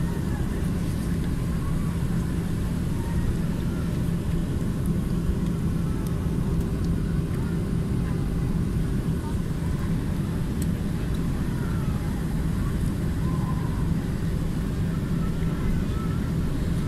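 An airplane taxis slowly at Katowice Pyrzowice Airport before takeoff, heard from inside the cabin as a steady, continuous low engine rumble and hum that stays even throughout.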